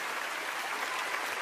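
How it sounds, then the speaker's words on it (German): Dense applause from a cabaret audience at a comedy show, a steady broadband wash of many hands clapping at once with no voices over it. "dann geben Sie mal einen Applaus, wenn Sie das schön finden"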